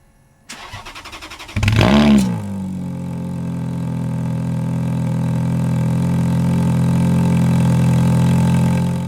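A car engine cranks over with a rattling starter, catches with a loud rising rev, then settles into a steady, close, even idle that holds for several seconds.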